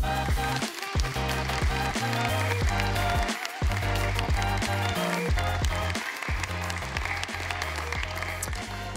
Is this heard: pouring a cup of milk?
no